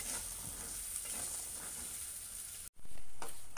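Eggplant sizzles steadily in a frying pan as it is stirred, with a continuous close hiss that briefly cuts out near the end and then comes back louder.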